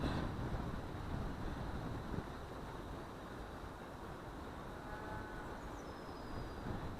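A strong wind roars as a steady, faint broadband rush that buffets continuously throughout, with no voices heard.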